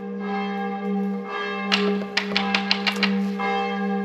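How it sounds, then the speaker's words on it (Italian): Festive church bells ringing in Ireland, sharp clustered strikes standing out over a steady low engine-like hum, with several quick bell hits in the middle. "sono anche le campane a festa che ci danno il benvenuto"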